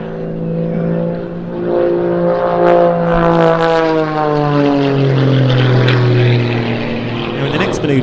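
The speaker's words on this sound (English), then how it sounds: "demonstrate the rudder authority of this aircraft once again by attempting to cartwheel twice around his left wingtip" Propeller-driven aerobatic aircraft at the Jersey International Air Display 2025, flying manoeuvres with a loud, steady engine whine that slowly shifts in pitch as it moves past, while a commentator talks over it.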